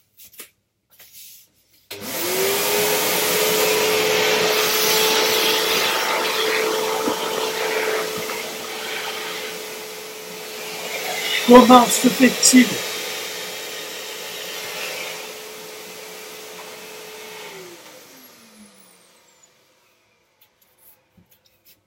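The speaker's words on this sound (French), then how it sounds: "je vais passer l'aspirateur." A vacuum cleaner switches on near 2 s and drones steadily at close range, rising briefly with clattering bumps around 12 s before winding down near 18 s; a few brief spoken words come just before it starts.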